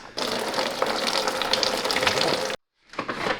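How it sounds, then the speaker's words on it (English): Coolant pouring out of a Toyota Supra during a heat exchanger swap, a steady close splashing gush for about two and a half seconds, a short silence, then a softer trickle resumes. "now we're draining the coolant twice"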